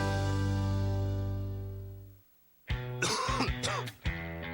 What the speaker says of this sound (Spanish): Para esa molesta tos, Tosil